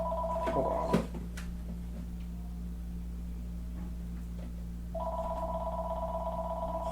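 Landline-style telephone ring in a room, two bursts of a bright electronic warbling tone, one brief near the start and one sustained later, over a steady low hum with no talking.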